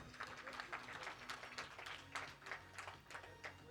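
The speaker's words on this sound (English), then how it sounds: "They deserve another round of applause." Faint, distant applause from an awards-ceremony audience, a continuous patter of many hands with a steady rhythm and no single clap standing out.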